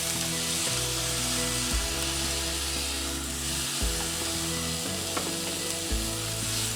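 A pound of Italian sausage sizzles in a pan with sautéed diced onions, a loud continuous sizzle over a low, steady background hum.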